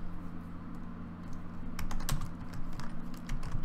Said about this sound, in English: Jeez, I cannot type tonight.